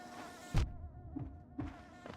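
Small bees in the video game Hollow Knight give off short, bright buzzing bursts, about three spaced pulses over a steady tonal game backdrop, with no voices.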